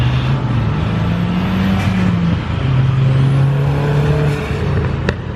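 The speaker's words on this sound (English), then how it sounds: "Got a Camaro over here on a full drag pack." A Chevrolet Camaro on a full drag pack sits close by at a car meet, its engine holding a loud, steady idle with a low rumble and brief rises in pitch. No voices are heard.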